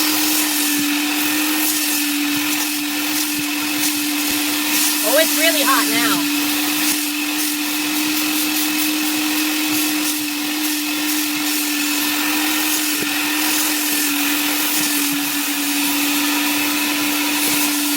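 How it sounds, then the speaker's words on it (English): A Mytee Lite 8070 heated carpet extractor vacuum runs steadily with a loud, constant motor whine and broadband suction hiss, while a voice speaks briefly over it. "We're going to go ahead and turn on the vacuum."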